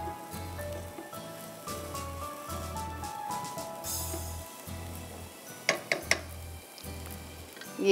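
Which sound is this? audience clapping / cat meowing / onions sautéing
onions sautéing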